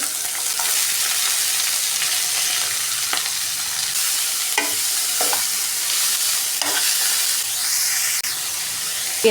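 Green chillies and onion stir-fry in a pan for a ladies finger fry, with a steady loud sizzle throughout and occasional scrapes from stirring, close up and without any talking.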